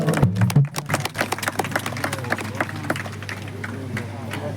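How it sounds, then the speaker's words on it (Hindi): Crowd at a religious storytelling gathering in Padampur breaks into clapping, a dense burst of rapid hand claps that starts loud and tapers into scattered, quieter claps while background murmur continues. "ताली लाओ जोरदार"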